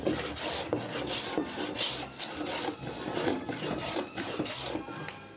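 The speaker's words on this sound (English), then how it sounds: "I will move to the smoothing plane" Repeated rasping strokes of a smoothing plane shaving wood in a Minecraft modpack, rhythmic scraping passes close and fairly steady, with no talk.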